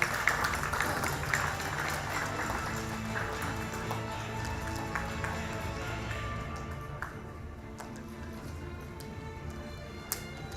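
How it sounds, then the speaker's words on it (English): Steady applause from an audience at an academic award ceremony, a dense patter of clapping that slowly fades toward the end. "Let's applaud her."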